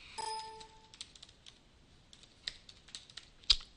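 Quick light keypresses on a computer keyboard while a password is entered, a brief tone at the start followed by an irregular patter of close clicks, with no talk.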